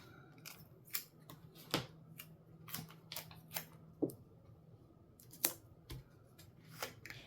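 Scissors snipping an extra piece off a paper planner insert, a series of sharp, quiet crisp snips spaced irregularly, close up with no talking.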